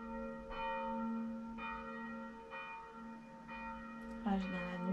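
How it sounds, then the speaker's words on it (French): Church bells tolling at a steady slow pace, each strike ringing out with long sustained overtones that overlap into a continuous hum, fairly near, during a calm morning yoga session. "Peut-être qu'on écoute les cloches sonner"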